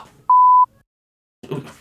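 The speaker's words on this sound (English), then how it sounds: "Season 2 is full of beeps." A single steady censor beep of about a third of a second bleeps out a spoken name, loud and clean, followed after a pause by a brief stretch of talking.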